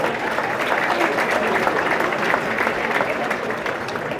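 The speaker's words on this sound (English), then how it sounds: "So a round of applause." Parade audience at the New York City St. Patrick's Day Parade applauding, a steady, dense wash of clapping from a crowd, fairly loud and continuous throughout.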